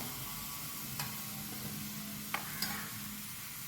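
Raisins fry in ghee in a pan, giving a soft, steady sizzle with occasional stirring scrapes, quiet and without voices.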